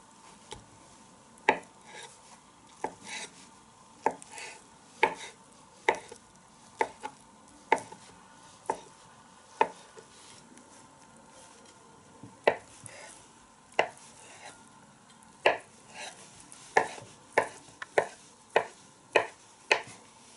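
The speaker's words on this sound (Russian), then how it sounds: "Теперь нужно кубиками нарезать яйца." A knife taps sharply against a cutting board dicing boiled eggs in a steady series of separate chops, each crisp and close, with short pauses between strokes.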